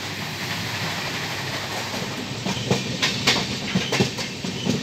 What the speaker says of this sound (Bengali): পানাগড় স্টেশন থেকে ট্রেন ছেড়ে দিল।